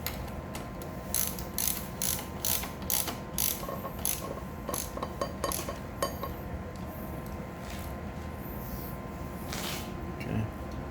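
Quick rhythmic clicks of a ratchet tightening a handlebar bolt on a Mega Moto 212 minibike, coming in short bursts of ratcheting strokes with brief pauses and light metallic clinks, close up over a steady background hum.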